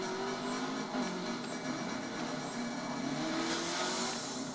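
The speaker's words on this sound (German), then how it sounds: "Einfach mit Vollgas rumdüsen auf der Strecke." Race car engine held at full throttle in the rally game Colin McRae: Dirt 2, a steady, loud, continuous roar with faint tire noise underneath and no voices.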